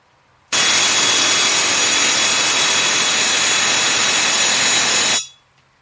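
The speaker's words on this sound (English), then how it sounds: "I'm going to turn on the vacuum pump, draw it all the way down to minus 30 inches of mercury" A vacuum pump drawing the air out of a high-voltage test chamber, pulling it down toward minus 30 inches of mercury, switches on abruptly as a loud, steady, broadband roar, runs unbroken for about five seconds, then cuts off and winds down.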